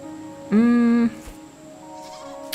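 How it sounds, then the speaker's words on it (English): A mountain goat in the farming game Garden Paws lets out a single short, nasal bleat, close and clear, followed by quiet ambience with faint rustles. "And we got this little mountain goat."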